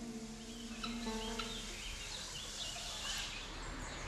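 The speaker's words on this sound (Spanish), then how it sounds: "En la isla aún viven pavos reales y raras especies de aves." Peacocks and other rare birds on a nature-reserve island in Berlin, heard as a few loud, harmonic, wailing calls rising over steady outdoor background noise.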